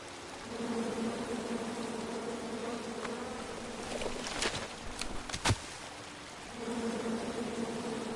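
Angry bees buzz from a tree in the King's Quest video game, a steady droning hum that fades briefly midway while sharper clicks and rustles cut through, then returns.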